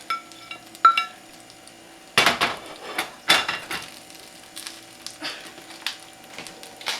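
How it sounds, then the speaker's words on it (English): Eggs, shrimp and onions get stirred into shrimp fried rice in a pan: a few loud close scraping and clattering bursts of a utensil against the pan, with light frying underneath and quiet gaps between strokes. "So now I'm going to take my eggs and my shrimp and my onions. I'm going to put it all in. I'm going to mix it all in."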